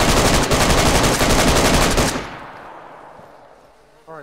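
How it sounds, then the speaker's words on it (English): Sustained rapid automatic gunfire in the video game DayZ, loud and dense for about two seconds before cutting off into a fading echo, with a brief voice near the end. "Me shooting, boys, me shooting."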